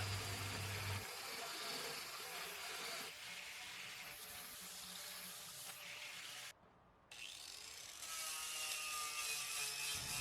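A rusty go-kart frame is stripped, with a steady, loud ratcheting and mechanical rubbing of a wrench working its nuts and bolts, continuous and close, briefly dipping before resuming.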